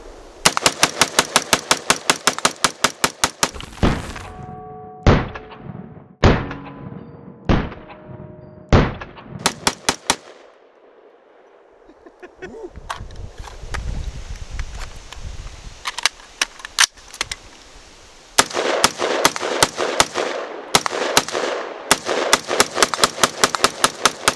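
An XM177 CAR-15 carbine fires in rapid bursts of loud, close, sharp cracks, with short pauses between strings of shots, a quieter stretch with rustling handling noise midway, then another dense burst of rapid fire.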